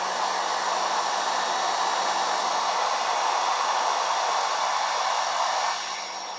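A hair dryer blows steadily on a freshly painted Warhammer miniature, a loud, even whooshing roar close by that eases slightly at the very end.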